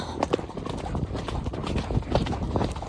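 A horse canters on a hack, its hooves drumming in a steady, close three-beat rhythm throughout, with wind and movement noise around them.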